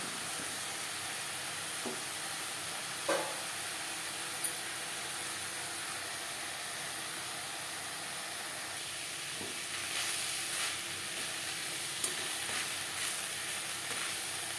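Telakochu greens are stir-fried until dry in a pan, giving a continuous faint hiss of sizzling with occasional soft clinks of stirring and no voices.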